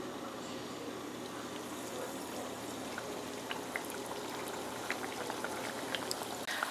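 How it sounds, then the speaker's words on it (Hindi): Aloo samosas deep fry in oil, a soft, continuous bubbling fizz with scattered small pops and crackles, steady and fairly faint throughout, no voices. "अब हम इनको डीप फ्राई कर लेंगे।"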